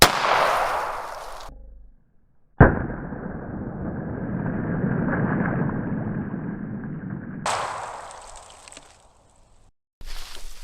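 A gun fires a homemade hollow point bullet. One loud, sharp shot is followed by a long rushing decay, and then comes a brief noisy burst, with no talking.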